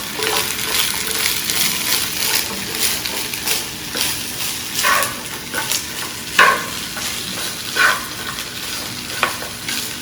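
Green beans sauteing in a hot pan with garlic salt, a constant close sizzle broken by clattering stirs and scrapes every second or two.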